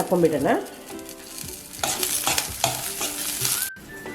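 Curry leaves and tamarind leaves fry in an oiled pan while pumpkin chutney is being made. The sizzling is loud and close, with stirring scrapes and bursts of crackle throughout.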